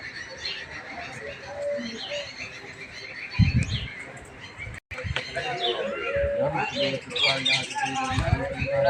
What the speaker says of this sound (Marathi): सकाळ सकाळचं वातावरण आणि त्याच्यात पाखरांचा कालवा